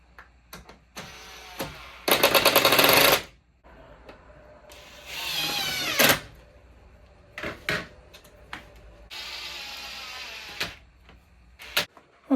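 A power drill drives drywall screws into wood while a stacked washer and dryer are built in, giving loud whirring bursts between quieter clatter and handling noises.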